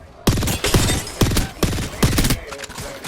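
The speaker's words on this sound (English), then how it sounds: "I shot at an enemy" Video game gunfire comes as loud, rapid bursts of repeated shots, several volleys in quick succession filling the whole clip.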